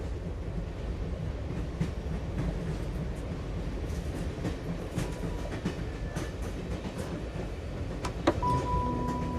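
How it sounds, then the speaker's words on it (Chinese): A passenger train running on rails, heard from inside the carriage as a steady low rumble with faint rhythmic clatter, continuous and even throughout, with a brief tonal chime near the end. "各位旅客，列车即将到达白洋县站"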